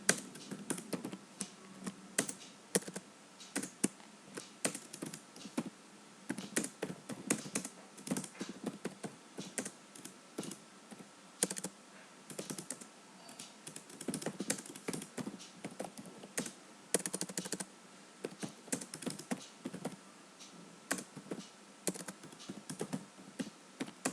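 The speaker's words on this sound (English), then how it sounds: "he need to type the message here in the" Fingers type steadily on a computer keyboard while entering a message into an app's input box, a dense run of quick close key clicks with short pauses, no talking.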